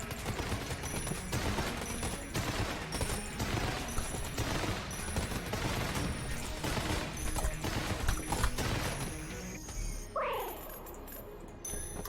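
Dense, continuous gunfire from firing guns in the Enter the Gungeon video game, a rapid fusillade of overlapping shots over a loud, busy game soundtrack, ending with a short rising electronic effect.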